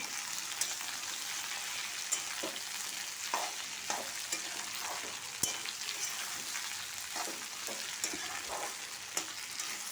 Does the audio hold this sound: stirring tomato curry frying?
yes